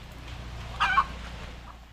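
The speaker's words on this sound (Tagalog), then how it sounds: "Nagputak-putak. Manok mo yan." A single brief chicken cluck, faint and somewhat distant, over a quiet outdoor background.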